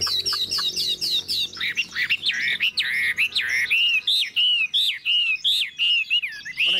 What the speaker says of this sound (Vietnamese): Hôm nay em lên các bác một em họa mi giọng siêu đỉnh luôn anh em nhá.